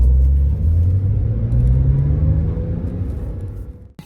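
A Porsche 4S all-wheel-drive sports car on the move, a loud low engine rumble with a rising drone as it accelerates, heard from inside or close by, easing off near the end.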